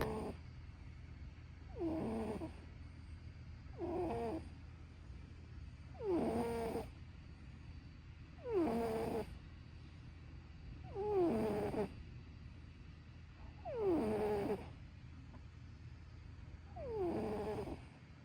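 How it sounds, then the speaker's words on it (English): A cat snores while lying in a lap, giving eight slow, evenly spaced rasping breaths over a low, steady background hum, fairly close and soft. "Another day and another clip of Ginny snoring in my lap."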